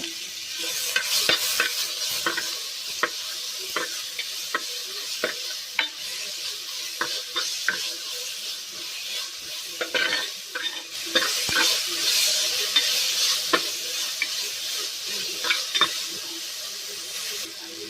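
Tomatoes fry in a hot pan while a spoon stirs them, producing a steady sizzle broken by repeated sharp scraping and clinking strokes, close and alone with no voices.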